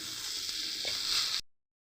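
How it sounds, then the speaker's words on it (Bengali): Spice masala for Kashmiri aloo dum fries in oil over a low gas flame, a soft steady hiss with a faint stir, then cuts off abruptly into silence. "ভালো করে কষিয়ে নিই যতক্ষণ না পর্যন্ত এই মশলা থেকে তেল ছেড়ে বেরিয়ে আসছে"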